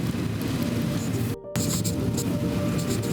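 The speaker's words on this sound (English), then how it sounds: "And it's really rainy." Heavy rain, a dense loud continuous hiss close to the microphone, briefly cut off near the middle before resuming at full strength.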